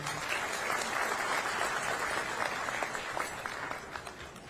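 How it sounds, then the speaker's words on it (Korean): Audience at a luncheon meeting with Korean compatriots in the Philippines applauding three speakers, a sustained, even burst of many people clapping, moderately distant and fairly soft, tapering slightly toward the end. "소중한 말씀을 나눠주신 세 분께 큰 박수 부탁드립니다"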